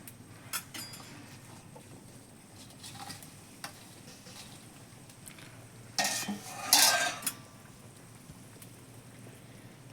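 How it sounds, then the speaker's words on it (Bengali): Pieces of fried silver carp go into a simmering curry, with faint bubbling and utensil clinks giving way to a short, loud burst of sizzling and spattering as the fish hits the hot liquid. "এবার ভেজে রাখা মাছগুলো দিয়ে দেবো।"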